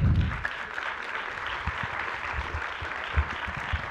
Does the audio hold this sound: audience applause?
yes